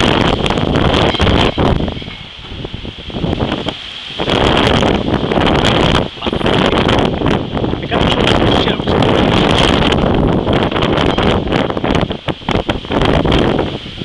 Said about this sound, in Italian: Sentite la forza del vento